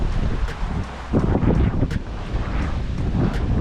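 Strong wind of about 17 knots roars steadily across the microphone on a sailboat at sea near Fiji, with waves rushing against the hull as the boat makes close to 8 knots.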